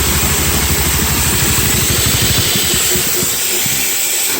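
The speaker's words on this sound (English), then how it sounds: "That unloader valve leaks pretty good." A running engine idling with a leaking unloader valve, steady loud broadband air hiss over a low, rapid engine throb that fades slightly toward the end.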